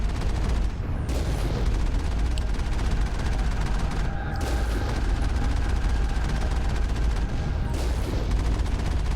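Turret gunfire in the video game Mass Effect during a Mako vehicle fight, loud, dense continuous bursts of automatic fire and booming impacts, with a few brief gaps in the barrage.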